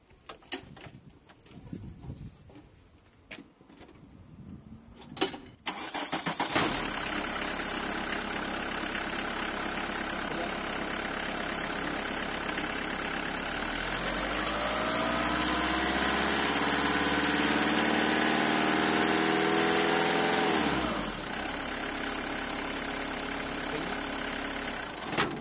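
A VW Caddy engine idles steadily during a health check with pressure gauges fitted, a continuous mid-pitched hum with slight vibration after a few seconds of quieter handling noise, and a brief rise in speed partway through before settling back.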